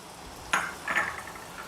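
Shallots and garlic are sautéed in a pan for paruppu urundai kuzhambu, with a close spatula clink followed by brief stirring scrapes and a faint sizzle.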